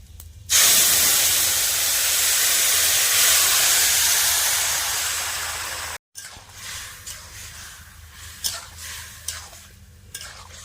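Whole cumin and five-spice tempering in hot oil with moong dal and ash gourd going in, a loud steady hissing sizzle that fades after several seconds, then softer frying crackle with scattered stirring clinks.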